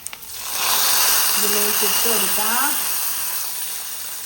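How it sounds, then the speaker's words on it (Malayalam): Mustard seeds sizzle and splutter in hot oil in a pan for a curry of dal and ground paste, a steady close hiss that runs throughout while a person talks over it. "കടുക് പൊട്ടിച്ചു."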